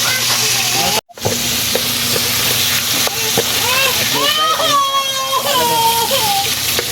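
Hot oil crackling and splattering as fish fries in a pan, a continuous close hiss with popping spatters, while people talk over it throughout.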